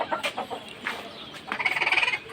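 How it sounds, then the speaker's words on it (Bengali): Chickens perched on bamboo cluck in short, repeated bursts nearby, ending in a quick run of rhythmic clucks. "আর মুরগিগুলা সবসময় আমার এই বাঁশের উপর থাকে"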